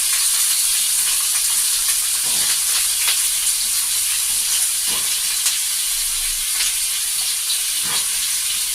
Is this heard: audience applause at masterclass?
no